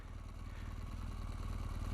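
Adventure motorcycle engine running with the clutch slipping, a steady low rumble that builds slightly in loudness over the stretch, with no speech.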